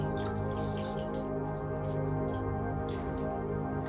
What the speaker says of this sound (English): And now I'm gonna go ahead and fill up my tray with water.